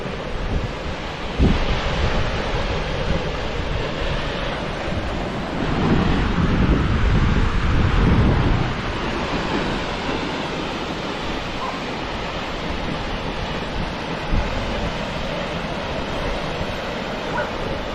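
Blustery wind buffets the microphone at the Steinsdalsfossen waterfall in Norway on a cold early-winter day, a steady broadband roar with a stronger gust swelling midway, loud and close throughout.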